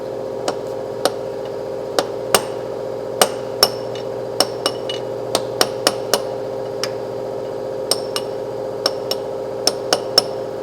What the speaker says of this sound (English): I'm gonna use this one and the hammer to take it out the axle.